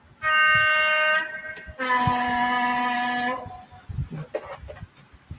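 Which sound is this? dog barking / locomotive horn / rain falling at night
locomotive horn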